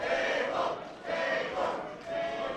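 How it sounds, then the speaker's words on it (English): A wrestling crowd at a Glory Pro Wrestling last-one-standing match chants for a table in a steady, rhythmic call repeating about once a second, loud and filling the arena. "The crowd is chanting for a table"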